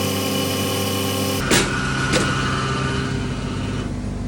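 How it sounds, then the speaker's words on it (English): Honda Zook 50cc scooter with a 49cc two-stroke AF05 engine running close and loud, a steady buzzing drone with a couple of brief knocks. "It's powered by a 49cc 2-stroke AF05 engine, which was commonly used across a range of other Honda scooters"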